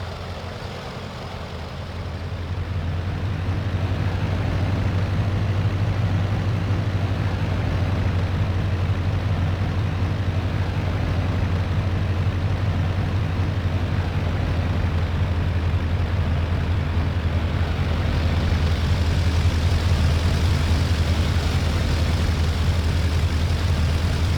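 A DHC-1 Chipmunk piston aircraft taxiing: a steady, droning propeller engine hum with a deep, constant tone that rises slightly at the start and then holds loud and even throughout.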